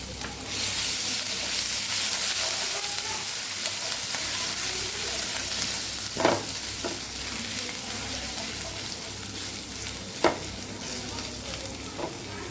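Asafoetida and grated ginger sizzle in a hot pan with oil while being stirred, a continuous loud frying hiss broken by a couple of sharp clinks from a spoon against the pan.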